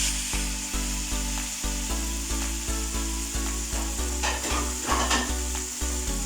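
Small cubes of boneless chicken fry in hot oil in a pan for a chicken karahi, giving a steady close sizzle. A regular pulsing stir or scrape sits over the crackle throughout, with no talking.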